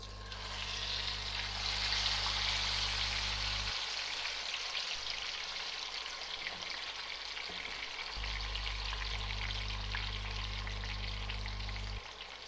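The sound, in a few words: whole chicken frying in hot oil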